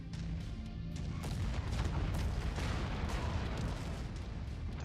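Gunfire aimed at the player in the Merc Life video game, a dense, steady barrage of booming shots rolling continuously close by, with no talking.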